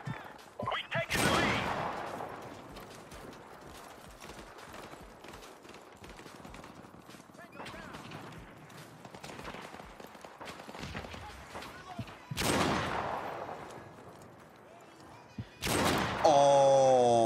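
Gunfire in a first-person shooter video game comes as several loud bursts spread over the stretch, with quieter game sounds between them and a person talking over the action.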